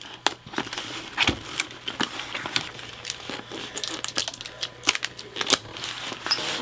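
Sticky tape pulled off and pressed onto a plastic comic bag, heard as a run of close, crisp crinkles and sharp clicks in an irregular rhythm, with no voices.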